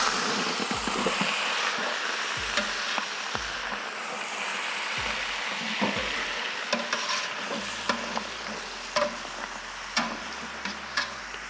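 Chopped vegetables for Cajun boudin sweat in a pan, giving a soft continuous sizzle broken by repeated scraping and tapping of a spoon stirring them, close and clear with no talking.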